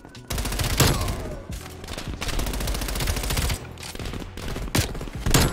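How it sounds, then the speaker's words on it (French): Shotgun blasts and other weapon fire in Call of Duty: Black Ops Cold War, several sharp loud bangs punctuating a steady wash of gameplay gunfire and noise. "Le fusil à pompe de loin, monsieur!"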